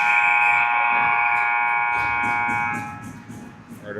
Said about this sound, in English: just as the buzzer sounds